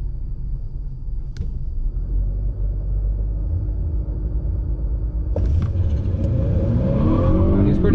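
A 2020 Honda Accord Sport 2.0T runs on a track against a Mustang GT, its engine a loud, close, steady rumble that swells into rising revs near the end.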